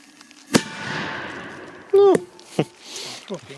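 A sharp Tiger Bomb firecracker bang under a roughly 0.8 kg pot, followed by a ringing metallic clang and rattle, then a second loud pop and some smaller knocks.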